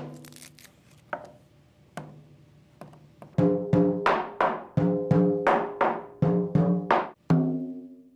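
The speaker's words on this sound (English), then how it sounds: "The skin is struck with a wooden mallet to test the tension" Wooden mallet striking the stretched skin of a taiko drum to test its tension. Sparse, scattered knocks give way to a rapid run of sharp, resonant hits with short ringing decays.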